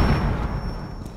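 A loud, deep explosion in the video game Rainbow Six Siege, a single heavy boom that rumbles and slowly fades over about a second.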